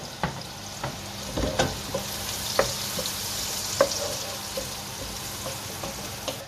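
Onions fry in a hot pan for mutton curry, giving a constant close-up sizzle broken by scattered clicks and scrapes as they are stirred.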